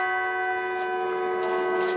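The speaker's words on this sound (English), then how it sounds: "Bells toll for Anthony Heffernan." Church bells ring at a funeral in Prince Albert, a steady, sustained tone that hums on for two seconds with no speech.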